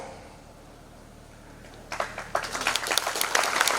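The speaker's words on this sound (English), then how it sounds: "we should give him a round of applause" An audience at a Shillong government college event breaks into applause for a local software engineer, starting suddenly after quiet room tone and building into sustained clapping.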